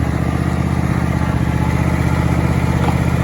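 A John Deere Z525E zero-turn riding mower engine runs at a steady, loud, even idle, its low throbbing drone unbroken throughout and with no voices.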